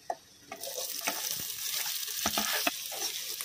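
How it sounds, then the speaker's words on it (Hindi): Finely chopped onions fry in hot oil with asafoetida for baingan bharta, a bright, continuous sizzle broken by several sharp spoon scrapes and clatters, close and fairly loud, with no talking. "प्याज को मैंने बारीक काट लिया था तो अब ये डालेंगे।"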